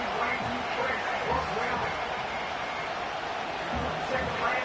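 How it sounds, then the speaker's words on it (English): Stadium crowd roar in an American football video game, Eagles matchup on a third-and-long play, a steady dense wash of distant cheering and babble with no clear individual voices. "This crowd turning up the decibel level."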